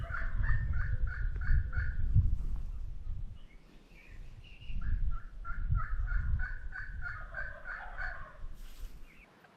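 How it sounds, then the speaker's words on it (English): Wild turkey hens cutting and yelping at daybreak during a South Dakota spring hunt, rapid repeated calls in bursts, moderately distant, over low rumbling background noise. "those hens, they just started, man, cutting up"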